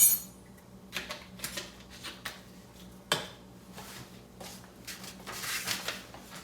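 A teaspoon of spice tipped into a dish, heard as a few soft clinks of a metal spoon against the container and a light rustle, close and quiet with small scattered knocks.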